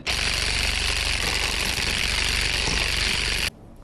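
A Saker 20V cordless hedge and grass trimmer chews through dead, woody old tumbleweeds with a loud, steady buzzing clatter up close, then cuts off abruptly near the end.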